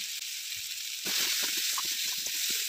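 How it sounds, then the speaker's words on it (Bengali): Chili powder hits hot oil with tomato, turmeric and spices for a dhaba-style egg tadka, a steady close hiss of sizzling frying that grows louder partway through, with faint scraping stirs underneath and no voices. "1 চা চামচ লঙ্কার গুঁড়ো দিয়ে দিচ্ছি।"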